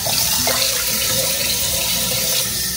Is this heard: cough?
no